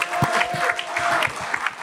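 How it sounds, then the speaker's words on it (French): Applause from a live audience greeting a guest's entrance at a podcast recording event, steady clapping for about two seconds with a faint sustained tone running underneath. "Mesdames et messieurs, applaudissez Loïc Landreau."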